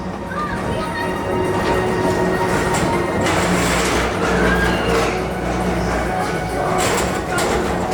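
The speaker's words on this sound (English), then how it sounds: "your express train keeps on rolling through the future" The Magic Kingdom People Mover at Walt Disney World rolls along with a steady rumble and hiss, rising and falling as it moves, with a faint voice in the background.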